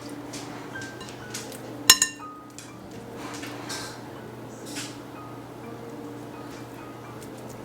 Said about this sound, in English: I transferred this to a glass bowl